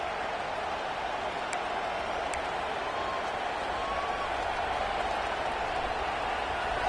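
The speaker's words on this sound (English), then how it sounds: "This crowd ready to make its presence known." Steady roar of a football stadium crowd at an Arkansas Razorbacks game against Notre Dame, a broad continuous wash of cheering and noise holding even throughout, with no clear voices on top.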